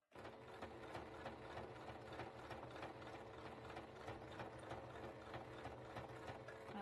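A sewing machine fitted with a bias-binding foot stitches bias binding in one continuous, quiet run, its rapid mechanical chatter steady from start to end with no speech over it.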